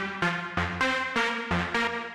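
A synth lead from an Ableton Live Berlin bundle plays a pulsing pattern of about six bright, punchy stabbed notes in an even rhythm, loud and alone with no voices.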